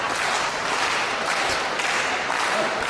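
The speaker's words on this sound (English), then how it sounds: "The crowd getting pumped up." A wrestling crowd at Abdullah The Butcher's Canadian retirement match roars in a steady, dense wash of cheering and clapping that never lets up.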